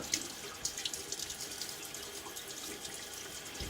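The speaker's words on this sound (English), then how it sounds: "So a little bit of water on my face as a prep." Water running and splashing at a bathroom sink as the face is wetted before a wet shave, a close, steady trickle with small irregular splashes, no talking.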